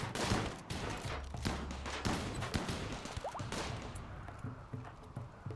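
Defensive turrets fire in the video game Rimworld, with rapid bursts and single sharp shots crackling at moderate distance over a busy battle background, with no talking.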